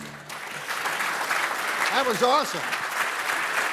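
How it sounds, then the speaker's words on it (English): Audience applause at a water summit panel session, a sustained wash of clapping from a seated crowd, with a voice briefly speaking over it midway. "Give our guests a round of applause."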